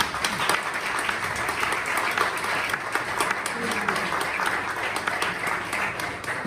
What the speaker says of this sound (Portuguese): Uma salva de palmas para a minha mãe.